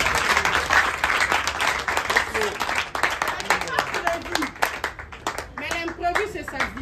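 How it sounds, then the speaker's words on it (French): A small group claps during a rehearsal, brisk uneven hand claps heard close by with a speaking voice running over them throughout. "Alors, on applaudit d'abord pour moi."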